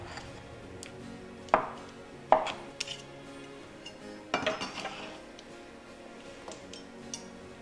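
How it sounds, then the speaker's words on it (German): A knife dices a washed tomato on a cutting board, with a few distinct, quiet chops spaced a second or so apart against a calm kitchen background. "Die Tomate habe ich gewaschen, abtropfen lassen und jetzt wird sie gewürfelt."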